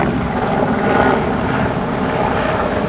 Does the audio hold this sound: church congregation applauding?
no